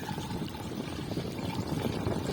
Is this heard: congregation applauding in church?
no